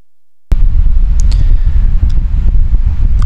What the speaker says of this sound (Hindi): आज बहुत ही तेज हवा चल रही है